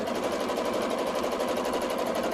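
A small-throated domestic sewing machine runs steadily while quilting, a loud, continuous close-up motor hum with rapid needle rattle and no pauses.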